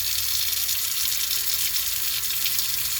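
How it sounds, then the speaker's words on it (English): Hot water runs steadily into a container while homemade fabric softener is being mixed, a continuous bright, hissing pour heard up close for about three seconds with no talking. "And then we're just going to put in some more hot water."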